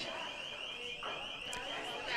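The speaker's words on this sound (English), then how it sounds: "We got the emergency exit only alarm going off." An emergency exit door alarm at a pool tournament venue sounds a steady, continuous high-pitched electronic tone throughout, with faint talk underneath.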